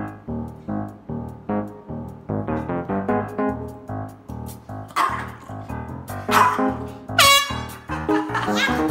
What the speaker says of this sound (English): And it's an air horn prank.